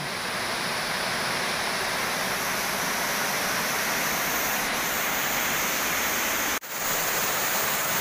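Powerful rushing water at a canyon waterfall near a hydroelectric site in Cebu, a loud, constant broadband roar that fills the whole clip without pause.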